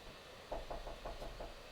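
Knocking on a door: a quick run of about six evenly spaced raps, moderately loud and fairly close, starting after a short quiet stretch over a low steady background hum, with no talking.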